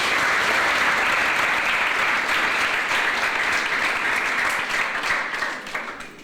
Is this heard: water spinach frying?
no